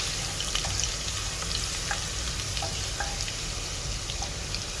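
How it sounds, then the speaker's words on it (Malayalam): Chopped garlic and chilli sautéing in a pan of hot oil, a steady close sizzle with a few light stirring clicks and scrapes scattered through, and no voices. "നന്നായി സോട്ട് ചെയ്യുക."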